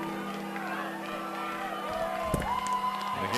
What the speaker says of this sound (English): here comes the crowd for Pulaski County on this third down and long